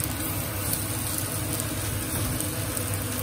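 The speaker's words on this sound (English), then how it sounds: "I'm just going to pop in the onion, garlic and chilli now" Onion, garlic and chilli sizzling in a hot pan, a steady, dense crackling hiss like light rain that stays even throughout, moderately loud with no voices.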